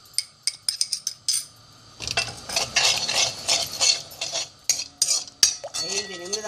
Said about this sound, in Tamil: 2 ஸ்பூன் நல்லெண்ணெயை விட்டு இந்த மருந்தை அடிப்பிடிக்காமல் கைவிடாமல் கொஞ்சம் கிளறவும்